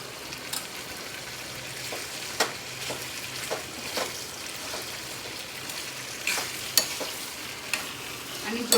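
Chutney stirred into okra sizzling in a pan for a Gujarati bhinda kasri, with a steady frying hiss broken by scraping spoon strokes against the pan at irregular intervals, close up and with no talk.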